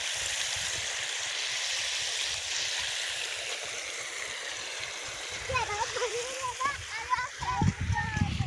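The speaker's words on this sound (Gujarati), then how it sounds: "જો બંબો પડે પાણીનો." Water gushes steadily from a pipe outlet into a tobacco field with a broad, continuous rushing splash; voices join toward the end.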